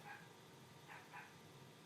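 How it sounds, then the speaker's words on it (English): Puppies barking faintly in the distance, two or three short yips standing out from a steady room hum. "I don't know what the puppies are barking at."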